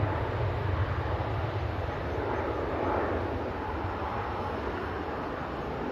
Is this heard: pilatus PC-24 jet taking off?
yes